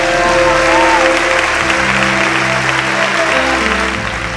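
A church congregation at a charismatic gathering in Brazil breaks into loud, continuous applause over sustained musical tones, with the clapping holding steady and easing slightly toward the end.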